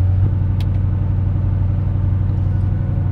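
A Koenigsegg Regera engine idles with a steady, deep, even rumble throughout, with no talking over it.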